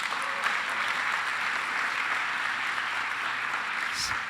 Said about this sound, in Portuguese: Então dá uma salva de palmas para os dois que eles vão voltar.